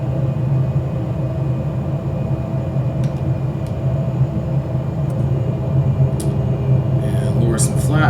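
Steady droning aircraft engine rumble from Microsoft Flight Simulator 2020 at high altitude near Mount Everest, continuous and loud throughout, with a few faint clicks toward the end.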